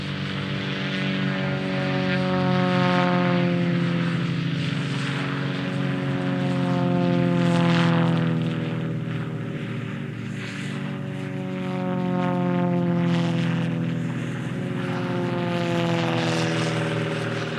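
Royal Jordanian Falcons aerobatic propeller aircraft performing a flying display at an airshow in Leszno, a steady, loud droning engine hum with slowly swelling and fading tones as the planes pass overhead.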